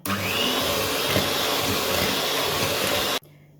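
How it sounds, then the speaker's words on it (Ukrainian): An electric hand mixer beating cake batter for a classic raisin loaf cake, a steady close whirring drone that runs evenly for about three seconds and then cuts off abruptly. "Вмикаємо міксер і перемішуємо."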